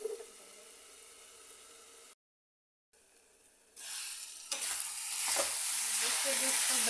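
Chopped tomatoes go into a cauliflower curry and start frying, a soft simmer that cuts out briefly, then swells into a loud, bright sizzle with stirring scrapes, close up and without speech.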